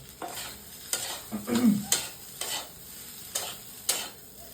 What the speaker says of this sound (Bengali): এই যে চাউমিনটা গরম করে নিই অল্প তেলে।